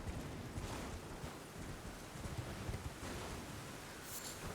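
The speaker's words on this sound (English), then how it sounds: "And then it immediately started raining." Steady rain falling in Elden Ring's Dragonbarrow region, a dense, even hiss of drops with faint wind, continuous and moderately quiet throughout.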